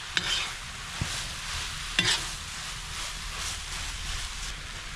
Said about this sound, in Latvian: Iemaisam to visu.